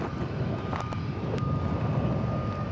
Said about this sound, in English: this will be Flight 522 coming in from Charlotte on an Airbus A321